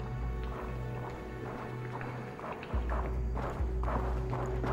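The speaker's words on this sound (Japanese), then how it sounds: "聞きな、足音だ。" Footsteps in the Sword of Convallaria video game, a run of soft repeated steps heard over a low droning background hum, moderately close and continuous.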